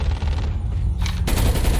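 Rapid bursts of gunfire in Call of Duty Mobile battle royale, loud and continuous, with a sharp shift in intensity partway through as the shooting continues.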